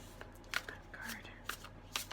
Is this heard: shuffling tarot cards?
yes